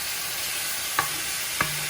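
Food frying and sizzling in a pan while fettuccine carbonara is prepared, a steady broadband hiss with two brief louder clicks of stirring, no talking.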